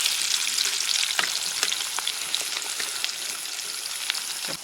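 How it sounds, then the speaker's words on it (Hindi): Onions sizzle steadily in a pan at a forest campsite, a dense continuous hiss broken by occasional sharp scrapes and clicks from stirring, close and clear with no talking. "चला डालो प्याज में हल्का।"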